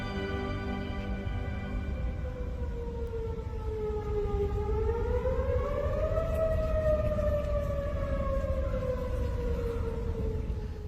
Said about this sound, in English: The sound of sirens pierced through the roaring winds in western Kentucky